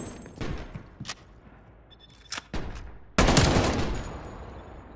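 Krig assault rifle fire in Black Ops Cold War comes in several sharp bursts: short volleys early on, then a longer, louder spray near the end, close and punchy against a quiet background.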